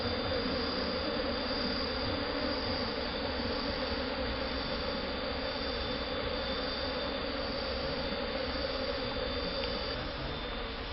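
Honey bees, the tawon gowok, swarm during a honey harvest with a dense, steady buzzing that holds loud and close throughout, with no talk over it.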